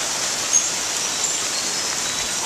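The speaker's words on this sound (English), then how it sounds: "it's still raining" Steady rain falls on a waterlogged yard during Tropical Storm Debbie on Anna Maria Island, Florida, a constant dense hiss that stays even and loud throughout, with no voices heard.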